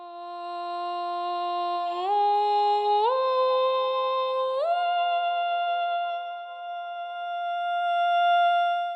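A sustained, pure-toned female sung vowel from a vocal sample library glides smoothly up between held notes, a soft legato line with no words, ending on a long held pitch.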